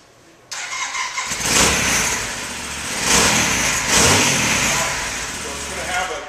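A car engine catches and then revs in a few swelling bursts, loud and close, settling between each rise.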